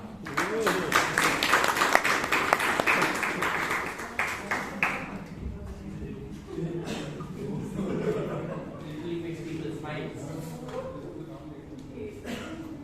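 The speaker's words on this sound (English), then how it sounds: "give a big round of applause for the next table topic speaker, guest Nisha" A Toastmasters meeting audience in Bangalore claps for the next table topics speaker, a guest, loud and dense for about five seconds, then fading into quieter room noise with murmured voices and chuckles.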